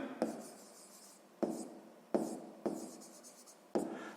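Handwriting math notes in a 6th-grade exercise, a pen or pencil scratching across paper in five short strokes, each starting with a tap and fading, quiet and close with no talking.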